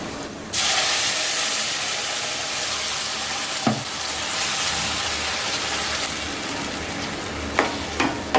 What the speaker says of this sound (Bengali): ভাজাভুজি চলছে, এখনো মাংসটা আধা হয়েছে